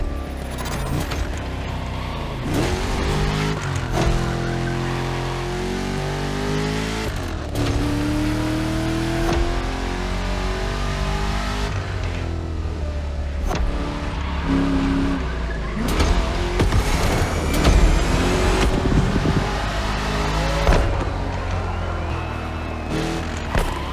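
Race cars in The Crew Motorfest duel on a Detroit street, engines revving hard through gear changes with rising whines, shifts and occasional tire squeal, loud and continuous.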